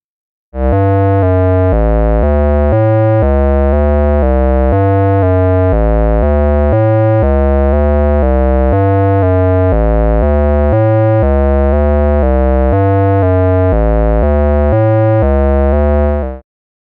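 A buzzy, harmonically rich modular synth square wave through a VCA envelope, pulsing steadily in a rhythmic pattern of short gaps, loud and continuous for about sixteen seconds.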